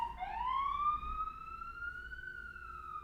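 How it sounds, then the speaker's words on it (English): An ambulance siren wails outside a New York City apartment, a single rising and slowly wavering tone heard from a distance through the window, fairly faint and without talk. "It's an ambulance."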